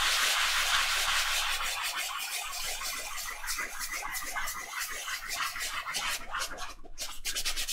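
Fingers gently rub a lumpy decoupaged tissue-paper figure, a steady close scratchy rubbing in quick repeated strokes, alone without talk.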